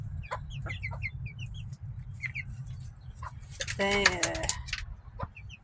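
Bantam chickens in a pen cluck and chirp in short repeated calls, close by, alongside louder rooster-like squawks near the end, with a person talking over them.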